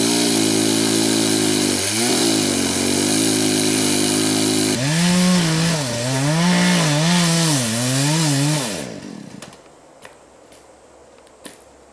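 A chainsaw roars loudly and continuously, its pitch dipping and rising as it bites into a standing tree trunk cutting a V-shaped notch, then cuts out, leaving quiet with a few faint knocks.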